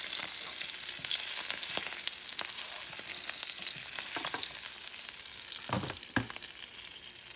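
Duck leg confit fries in a pan with a steady, close hiss of sizzling fat, punctuated by sharper crackles and a few bursts of spattering.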